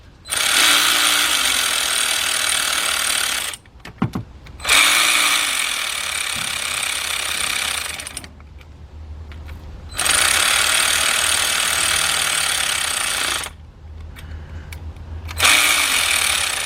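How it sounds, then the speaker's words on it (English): A cordless ratchet driving fasteners during timing chain work on a GM V6 engine, loud high whirring bursts of several seconds each, separated by short pauses with faint clicks, close to the listener. "got my cordless ratchet here"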